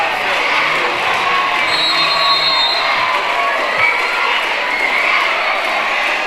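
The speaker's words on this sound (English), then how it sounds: "I'm liking this crowd right now." A high school basketball crowd at the Spartans–Richmond game roars and whoops steadily around tip-off, a dense wash of cheering and shouting voices that holds a constant level throughout.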